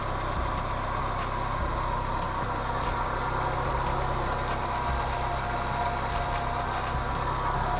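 A 1990s-era Mazda MX-5 Miata MK1 with about 88,000 km sits idling while warming up before an oil change, a steady, even low engine hum with no revving, heard alone.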